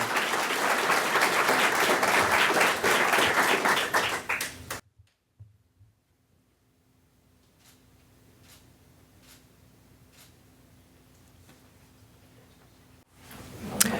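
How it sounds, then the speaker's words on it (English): An audience at a career signing ceremony bursts into loud, sustained applause for several seconds, which quickly dies away into a near-silent room with only faint rustling. "Let's have a round of applause, everyone, for Johnny Cabor"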